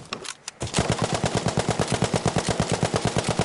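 Rapid hip-fire gunfire in Battlefield V, a steady stream of loud, evenly spaced automatic shots that begins after a brief quiet start and runs nearly unbroken to the end.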